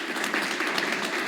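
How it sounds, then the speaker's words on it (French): Applause from a live stream audience welcoming a guest at the start of an interview about the game Rivals by Unkind Games, a steady, dense wash of clapping held at an even level throughout, with no voices. "Applaudissements."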